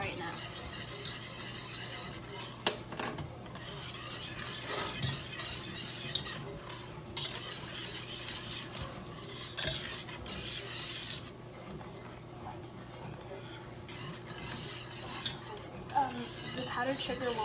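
A whisk scrapes and stirs thick brown sugar fudge in a pot, soft irregular scraping and clinks at close range, with a person talking intermittently over it.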